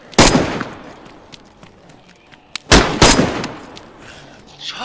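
Gunfire in the survival game DayZ: a single loud shot, then a quick double burst a couple of seconds later, sharp and close with short decaying tails, and quieter clicks and movement sounds in the gaps.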